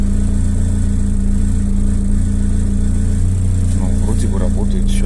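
A Volkswagen Passat B3 engine idles steadily just after starting, a constant low hum and drone, with someone speaking faintly over it toward the end.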